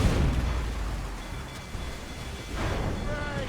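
Ship cannons firing in a naval battle in Assassin's Creed Rogue: deep, rumbling booms that swell and fade under dense battle noise, with shouting voices mixed in.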